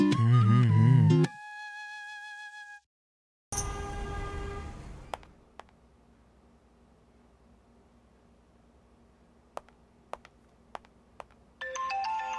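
A loud melodic phone ringtone plays briefly, followed by a few steady electronic tones, a pause, then quiet with scattered clicks.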